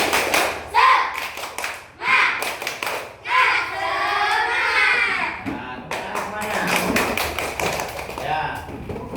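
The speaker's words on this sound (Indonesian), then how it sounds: "Yuk, tepuk semangat." Classroom students clap a rhythmic spirit cheer together, sharp bursts of synchronized claps in patterned groups, with voices chanting and talking between them.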